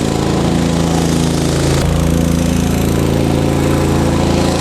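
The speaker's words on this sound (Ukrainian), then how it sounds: "він підняв обороти і зараз видає 3 кВт." A KEMAGE KM5000io inverter generator runs under load powering a heater at about 3 kW, with a loud, steady engine drone up close that shifts pitch abruptly partway through as the load changes.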